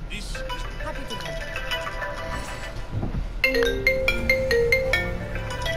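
A phone ringtone plays in the Assassin's Creed Odyssey video game, a run of bright repeated electronic tones in the second half over background game sound, with voices talking earlier.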